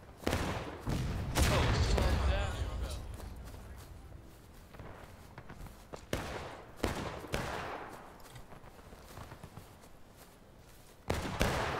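Musket volleys in War of Rights. A loud, crackling burst of massed shots opens the stretch, followed by scattered individual musket cracks at intervals and another sharp report near the end.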